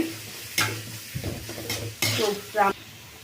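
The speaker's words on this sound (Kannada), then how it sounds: "ಈಗ ಇದು ಅರ್ಧಂಬರ್ಧ ಫ್ರೈ ಆಗಲಿ, ಅಷ್ಟು ಫ್ರೈ ಮಾಡ್ಕೊಳ್ಳೋಣ" Vegetables frying in a pan for egg fried rice, a low sizzle broken by several distinct scraping and clattering strokes of a spatula against the pan, close and fairly quiet.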